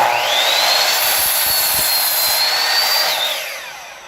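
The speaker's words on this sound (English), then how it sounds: "you're going to start your saw, and you're going to go slow through the 2x4" A miter saw cuts slowly through a 2x4 with a loud, steady high whine that holds throughout, then begins to spin down at the end, close by with no talk.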